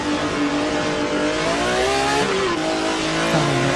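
Onboard engine of the number 0 BMW M1 Group 5 race car lapping Road Atlanta in a racing video game, a loud, steady high-revving roar with pitch rising and dropping through gear changes.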